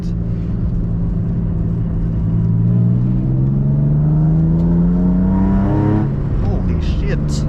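A Nissan 350Z engine revs up with a rising drone, then drops as it downshifts, heard loud from inside the car while a voice talks over it.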